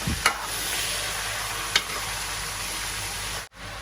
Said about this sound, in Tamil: இறைச்சியை போட்டு நல்லா மிக்ஸ் பண்ணும்